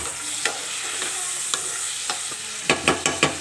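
Tomatoes fry in a pan under a constant soft sizzle, with a spatula scraping and tapping at regular intervals and a quick run of four firmer knocks near the end.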